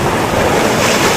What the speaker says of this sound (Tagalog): ang ganda ng hampas ng tubig